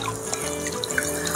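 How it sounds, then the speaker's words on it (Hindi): Water runs into the basin of a toy kids' kitchen sink in a steady, close trickle with light splashing and dripping throughout. "मैं पहली बार ये सिंक के साथ खेल रही हूँ जिसके अंदर पानी हो।"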